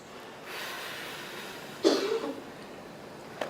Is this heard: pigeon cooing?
no